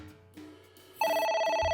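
A phone starts ringing in the video game AI: The Somnium Files, a bright electronic ring that cuts in suddenly and holds steady over a low background tone.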